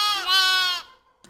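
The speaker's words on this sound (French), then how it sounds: "Agneau," A single close, clear bleat from a sheep or lamb that wavers for under a second, followed by a brief faint sound.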